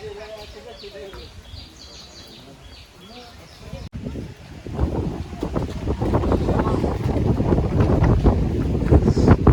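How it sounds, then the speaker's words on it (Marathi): Loud, gusty wind buffets the microphone in a steady roar at Shivneri hill fort, rising after a quieter opening with distant voices and faint bird calls. "वारा बिरा एकदम खतरनाक आहे"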